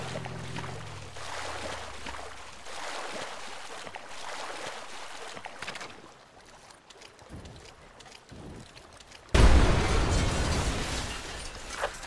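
A jeep explodes in a military video game set in a deep jungle, a sudden loud boom near the listener cutting in after wind and engine rumble, then sustained roaring noise.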